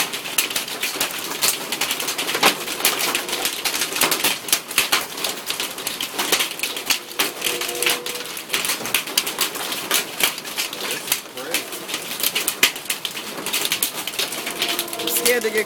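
August hailstones come down hard in a continuous rapid clatter of sharp ticks and raps, loud and near, with no letup.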